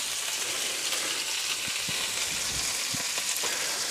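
Cheap cuts of old mutton frying in a pan, a steady dense sizzle running throughout with small pops and crackles, close and continuous, no talking.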